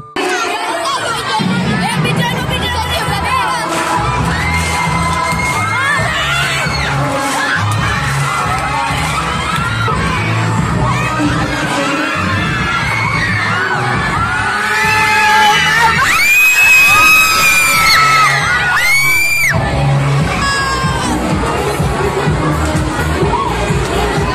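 Students at a school MAPEH dance event shout and cheer loudly as a crowd over pounding dance music, with shrill screams swelling near the end; voices chatter throughout.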